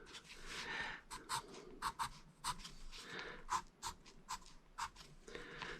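Pencil sketching of a white cottage on paper: quick, irregular scratchy strokes in short bursts, some longer shading passes between them, close and fairly quiet with no talk.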